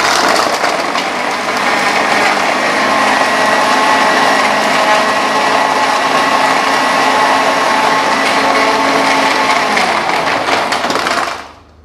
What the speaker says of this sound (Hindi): दूध ऐड करूँगी ताकि ये अच्छे तरीके से सबसे पहले जो आइस क्यूब्स हैं वो ब्लेंड हो जाएं